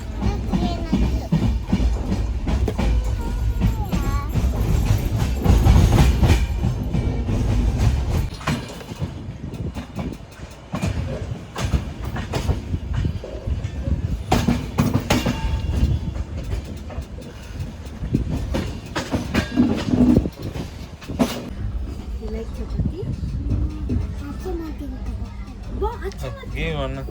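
Passenger train running on rails on a journey from Mangalore to Kerala, a steady loud rumble throughout with faint rhythmic clatter, under a child's and adult's chatter.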